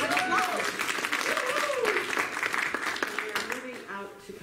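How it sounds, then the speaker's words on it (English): Congregation applause for a newly engaged couple, a steady wash of clapping that fills the room, with a few voices talking and calling out over it. "Let's give them a round of applause."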